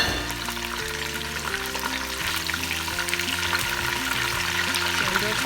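Snails frying in oil in a pan over medium heat give a steady, even crackling sizzle that runs unbroken under a low background hum, close and moderately loud.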